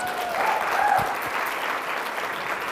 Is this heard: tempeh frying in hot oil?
no